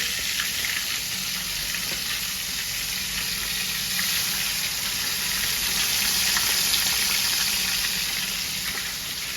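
Pieces of eel fish frying in hot oil in a home kitchen give a dense, continuous sizzle, loud and close, with a constant bubbling hiss and no talking.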